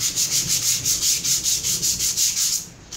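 Sandpaper rubs over a cement vase made of cement and wall putty in steady, rhythmic back-and-forth strokes, close and fairly loud, about a dozen even passes with no talking.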